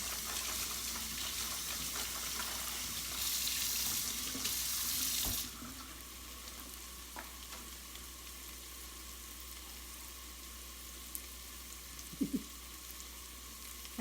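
Tap water runs steadily into a kitchen sink as food is rinsed for sopa de fideo, loud at first and then quieter, with a faint background hiss and a few small clinks near the end.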